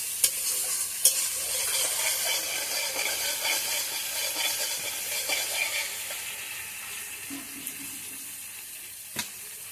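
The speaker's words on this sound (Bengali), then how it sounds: "এবার মশলাটা খুব ভালো করে কষিয়ে নেব।" Spice paste of cumin, chili and turmeric being stirred and sautéed in a pan, giving a steady soft sizzle with scraping stirs and a few sharp clicks of the spoon throughout.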